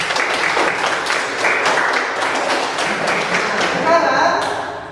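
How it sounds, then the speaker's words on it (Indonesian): A classroom of students clapping their hands together, a busy wash of many claps with voices mixed in, fading toward the end as a tone sounds. "Oke, tepuk tangan dulu."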